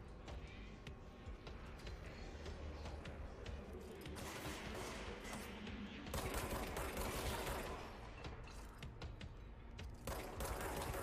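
Blaster gunfire crackles in a video game firefight, a faint but continuous stream of rapid shots and bursts with a few louder volleys over a busy background.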